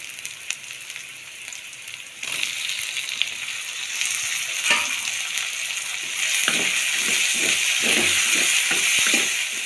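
Tomatoes dropped into a frying pan of sizzling ginger-garlic, a soft hiss that grows louder after a thud, then rhythmic scraping stirs over steady crackle, close and without speech.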